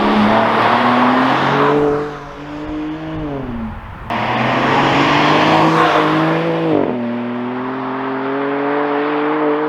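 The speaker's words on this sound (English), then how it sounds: "it does sound quite deep compared to the last M2" A BMW G87 M2 with the S58 engine revs hard in deep, loud sweeps, the pitch climbing and dropping through three clear bursts with sharp cutoffs between them.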